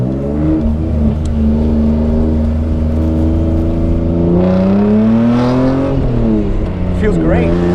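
A BMW E36 M3 race car drives along a highway with its engine droning steadily and loudly throughout, its pitch rising and falling with throttle; a voice speaks briefly over the engine noise.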